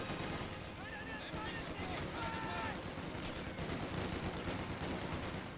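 MG42 machine gun fire and battle noise in the strategy game Company of Heroes 2, a steady wash of rattling gunfire and explosions throughout, with faint unit voice chatter mixed in.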